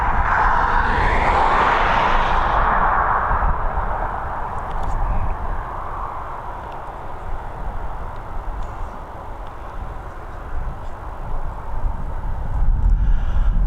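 A plane climbs away after departing Dublin Airport, its engine roar loud at first and then fading into a wide, wind-buffeted rumble.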